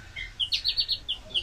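Cartoonish dizzy-bird chirps from a wrestling video game, a string of bright, quick tweets repeating in a steady looping rhythm, fairly faint and close, with no talk over them.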